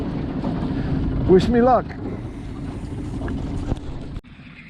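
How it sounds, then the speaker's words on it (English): Wind gusts across the microphone from a drifting fishing boat on Oneida Lake, New York, a steady low rumble with a brief creak and someone speaking over it. "the wind is blowing that way, so I'm just going to drift across the lake"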